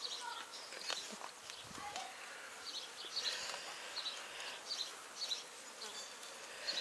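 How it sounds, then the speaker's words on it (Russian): Flies buzz around an outdoor tasting of surströmming, a fermented herring, with several faint whining passes coming and going over a soft background hiss. Light handling noises sit underneath. "Смотри, мух сколько"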